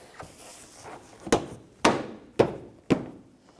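Plastic clips on a 2009-2014 Nissan Maxima front bumper cover are snapped into place, giving four sharp, close thunks at roughly half-second spacing after a few softer taps, with no talking.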